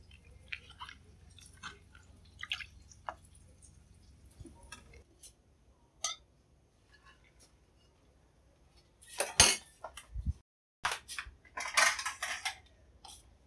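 Crisp snapping and tearing as a banana blossom is split by hand into pieces for a boiled vegetarian salad. Sparse soft crackles come first, then a louder cluster of close, crunchy breaks with clinking.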